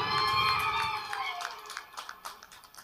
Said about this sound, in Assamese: জোৰকৈ এটা হাত তালি